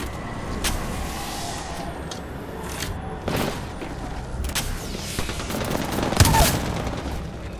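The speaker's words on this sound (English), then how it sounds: "No, they're shooting at me." Enemy gunfire in an Apex Legends match: scattered bursts and single shots crackle over a steady background rumble, a few louder cracks standing out near the end.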